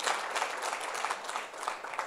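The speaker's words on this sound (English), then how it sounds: "she deserves a round of applause" Audience applause after a presentation at a National Student Financial Aid Scheme event, a steady wash of many hands clapping at moderate distance, fairly soft and continuous for about two seconds.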